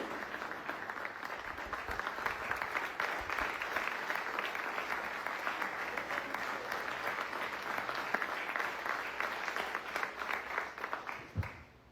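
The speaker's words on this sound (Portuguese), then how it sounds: "Vamos dar um aplauso a Jesus pela vida de vocês." A church congregation gives a sustained round of applause for Jesus, dense clapping from many hands filling the room evenly and continuously, with a few louder claps standing out near the end.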